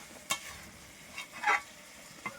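Chicken with spices being stirred in a pan in a small home kitchen, a few distinct spatula scrapes and clinks over a low, faint background sizzle.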